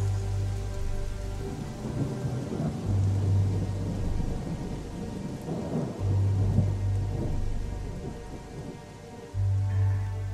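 Heavy rain pours steadily in a radio drama while deep thunder rumbles roll in repeatedly beneath the dense hiss of falling water, with no voices.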